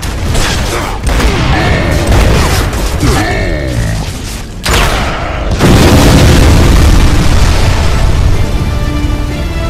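A fuel tank blows up in the video game Gears of War 3, heavy booming blasts and rumbling bursts amid gunfire and debris, loud and close, swelling into a longer roaring explosion midway.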